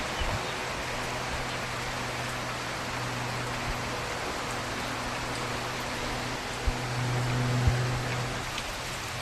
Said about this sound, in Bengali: ও বাপ রে বাপ, পুরো ঘন জোর বৃষ্টি কিভাবে দেখো